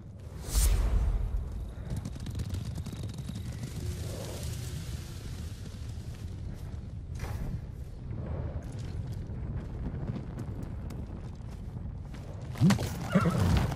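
A horse whinnies loudly near the start over a steady rumbling bed of hoofbeats and rushing ambience in the video game Ghost of Tsushima, with another burst of noise at the end.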